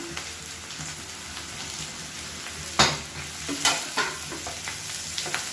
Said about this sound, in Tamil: இப்போ இது எல்லாமே பொரிய ஆரம்பிக்குது